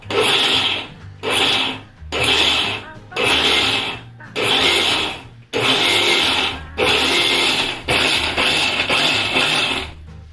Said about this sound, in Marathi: त्यासाठी मिक्सर बघा नुसतं ऑन ऑफ करावा